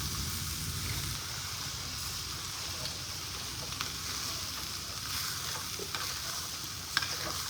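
Chili powder sizzles in coconut oil in a pan while a spoon stirs and scrapes through it, a constant close frying hiss with small clicks and knocks from the stirring.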